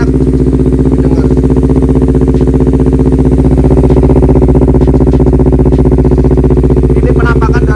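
A Honda CBR250RR motorcycle fitted with an R9 H2 long exhaust runs close by, a loud, steady, deep engine drone with a rapid pulsing beat holding nearly constant, with faint chirping noises late.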